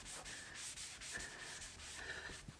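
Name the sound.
microfiber cloth rubbing car trim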